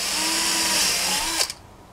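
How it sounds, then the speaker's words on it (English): A power drill bores a hole into the side of a metal medieval gauntlet, a loud steady whine that drops in pitch and cuts off abruptly, leaving a low hum. "Got to drill a hole in the side here."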